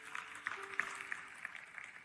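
A church congregation at a youth worship service applauding, a faint, distant patter of many hands clapping steadily for about two seconds.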